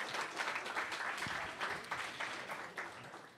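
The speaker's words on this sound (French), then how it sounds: "Fait que, on l'applaudit aussi." Applause from a hall audience at a talk, steady and fairly faint, sustained across the whole moment with no voices over it.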